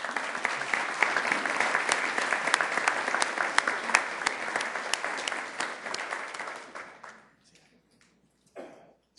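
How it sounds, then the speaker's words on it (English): A city council meeting audience applauds an Earth Day proclamation, steady clapping from a roomful of people lasting about seven seconds before dying away into quiet, followed by a short sound at the end. "Let's give them a round of applause."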